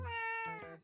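A cartoon cat gives one clear, close, drawn-out meow that rises and then falls, with no voices over it.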